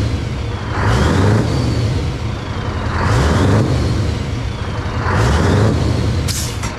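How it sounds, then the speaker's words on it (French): A Scania V8 truck engine is blipped three times in a slow, even rhythm, each rev swelling loud and close over a rumbling idle before falling back. "Bon, je vais mettre des petites gaz."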